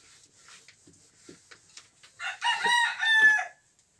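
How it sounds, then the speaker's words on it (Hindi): A rooster crows from chickens kept next door in a rural village, a clear, loud cock-a-doodle-doo rising after a few faint clucks and rustles, with no talk over it. "इसलिए मुर्गी उर्गी पाला जाता है, तो आवाज आता है बगल से"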